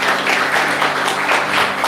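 A church congregation applauding, with dense, steady clapping from many hands that fills the space evenly for a moment.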